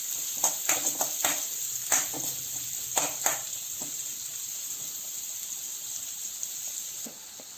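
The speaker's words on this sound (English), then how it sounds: "And then the chopped onions, and we will saute it a little." Chopped onions with garam masala sautéing in a pan, a steady soft sizzle punctuated by scattered clicks and scrapes of stirring, close and fairly quiet with no talk.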